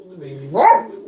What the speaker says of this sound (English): Sorry about the noisy dog in the background.